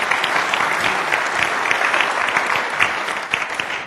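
Audience applause at a Canadian Football League commissioner's appearance, a steady dense wash of clapping from a live crowd, loud and sustained throughout with no talk over it.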